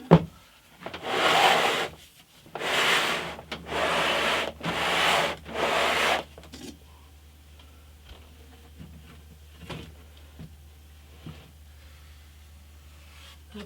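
Wooden acoustic guitar frame being sanded by hand with 240 grit sandpaper during the build: five rhythmic rasping strokes, close and clear, followed by quieter taps and handling noises over a low hum.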